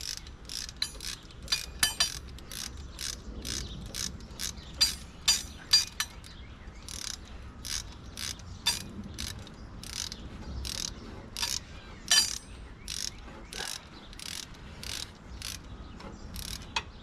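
A hand ratchet works bolts loose during an LS V8 engine swap into an MGB, rapid rhythmic clicking in repeated strokes, close and clear over a faint background.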